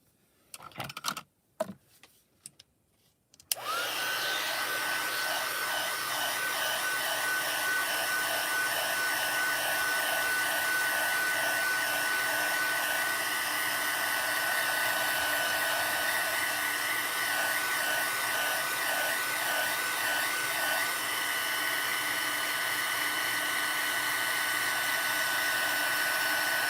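A heat gun melts clear embossing powder, starting after a few faint knocks and then blowing as a loud, steady whirring hiss that holds unbroken for over twenty seconds.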